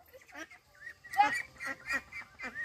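Ducks calling close by in a quick series of loud, nasal honking quacks, the calls bunched together in bursts with short pauses between them.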